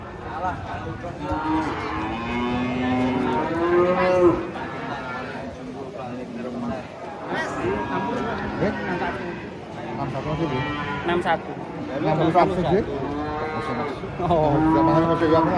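Giant Limousin cattle moo repeatedly as they are unloaded from a fully loaded truck, loud overlapping calls close by amid crowd chatter and people talking throughout.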